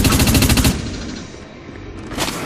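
Rapid bursts of automatic gunfire from the shooter game Dust 514, loud and close for the first moment, then dropping to a low background rumble before another burst swells at the end.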